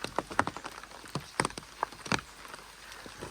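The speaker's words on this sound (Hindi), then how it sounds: "और वर्षा हो रही है" Rain falling at a mountain temple in Uttarakhand, scattered irregular drops and splashes tapping on nearby surfaces over a soft steady wash of rainfall.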